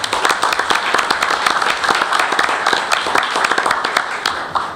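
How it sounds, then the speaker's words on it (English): A standing crowd at a school board meeting gives a round of applause for student leaders, with many distinct claps forming a lively, steady ovation that fills the room from start to finish. "let's give these leaders a round of applause"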